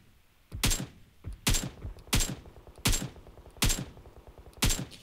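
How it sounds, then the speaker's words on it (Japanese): Gunfire in the mobile battle-royale game PUBG Mobile: six loud, sharp shots spaced evenly about every 0.7 seconds, each with a short booming tail, heard alone without talk. "あ、もう一回銃声した。"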